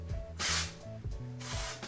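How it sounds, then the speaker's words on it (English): A silver spray can sprays in two quick bursts of hissing aerosol, close and fairly loud, with faint tonal background sound between the bursts. "Yeah, I have this like silver spray."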